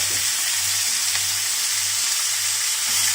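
Pork sizzling steadily in a hot pan for Thai pad kra pao, a loud, continuous bright frying hiss with a low steady hum underneath, no voices.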